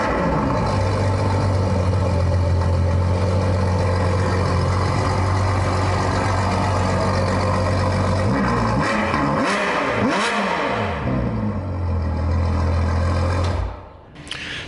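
A straight-piped Novitec-tuned Ferrari 812 Superfast V12 roars loudly and close up, holding a steady high-pitched drone, then rising and falling through sharp revs before settling back to idle and fading at the end.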